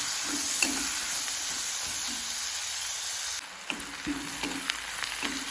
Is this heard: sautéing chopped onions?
yes